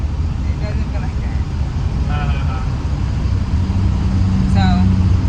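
Steady rumble of a car driving on the road, heard from inside the cabin, a continuous low road and engine drone with a few faint higher tones over it.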